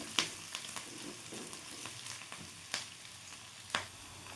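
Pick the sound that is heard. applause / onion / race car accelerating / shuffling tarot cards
onion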